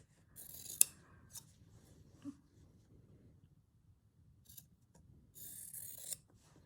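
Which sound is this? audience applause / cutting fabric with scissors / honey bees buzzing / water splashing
cutting fabric with scissors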